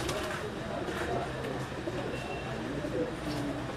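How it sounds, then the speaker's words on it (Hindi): Large phanier fancy pigeons in Gujranwala coo softly and steadily beneath a dense wash of background noise, with a voice talking over the birds. "ये कबूतर दिखा रहा हूँ फनियर कबूतर"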